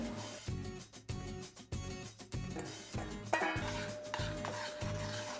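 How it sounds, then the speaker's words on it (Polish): A whisk or spoon stirs two batters together for a matcha lava cake in a bowl, giving a rhythmic scraping and clinking that repeats roughly every half second and stays close, with no talking. "Teraz mieszamy obie masy"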